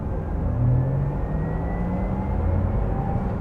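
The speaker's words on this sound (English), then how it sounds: "you hear the whine of the electric motors, the whine that legally has to be there when you're driving an electric car anyway" A Porsche Taycan RWD electric car cruising with a steady, futuristic motor whine over a deep, bass-like drone and road rumble, heard continuously from inside the cabin.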